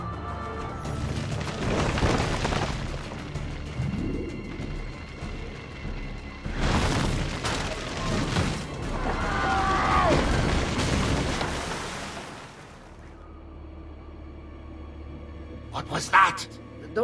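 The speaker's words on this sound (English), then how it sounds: "Probably just kids with firecrackers." Booming bursts in an Assassin's Creed 2 cutscene, passed off as kids with firecrackers, come in a few heavy waves of rumbling blasts with crackling pops between them, followed by a short sharp burst near the end.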